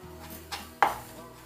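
A few sharp knife strikes on a cutting board, finely chopping parsley, spaced irregularly, close and fairly quiet, with no talking.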